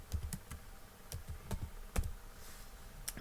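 Keys clack on a computer keyboard in an MS Word session, quick irregular presses including the Tab key, close and moderately loud with no talking.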